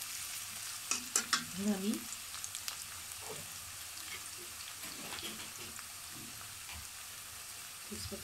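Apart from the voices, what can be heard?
onions frying in a pan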